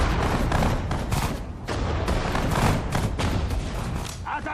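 Dense, loud gunfire from the WWII real-time strategy game Sudden Strike 4, set at the Battle of Stalingrad, with overlapping rifle and machine-gun shots and thuds forming an almost continuous crackling barrage for the whole stretch.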